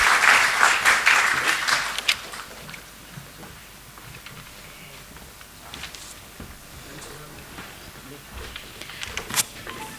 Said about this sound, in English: Can I have a huge round of applause for our office bearer